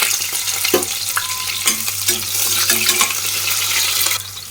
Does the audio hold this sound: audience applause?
no